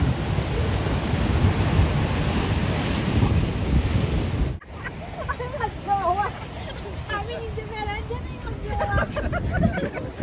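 Ocean surf at La Jolla Cove in San Diego, California, roars loudly with heavy wind buffeting the microphone for several seconds, then cuts to quieter surroundings where people talk over a softer background of waves.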